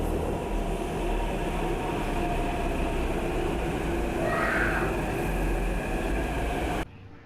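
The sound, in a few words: Hyderabad metro train arriving and running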